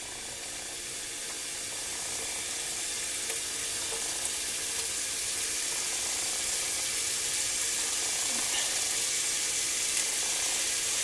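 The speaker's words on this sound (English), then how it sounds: "first thing we're going to do is get this all fried up just a little bit" Steady, loud sizzling of ham frying in a pan, continuous throughout with occasional faint clinks of a utensil.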